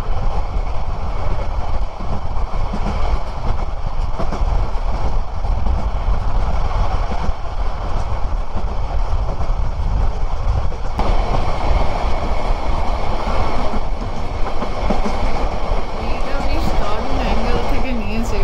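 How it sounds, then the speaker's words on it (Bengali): Cox's Bazar Express passing nearby through forested country, a loud, continuous rumble with rattling wheels that shifts partway through, with some talk underneath. "ওই যে ট্রেনটা দেখা যায় দেখুন"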